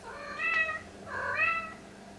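A house cat meows twice, close and moderately loud, in two drawn-out calls against a quiet indoor background.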